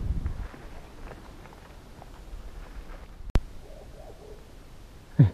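In the Enggano island rainforest, a bird gives faint, distant hooting calls over soft forest ambience, punctuated by a couple of sharp nearby knocks.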